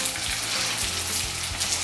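Steady, dense sizzling and crackling of cheeseburger egg rolls frying in hot oil, close up and continuous, with faint low bumps underneath.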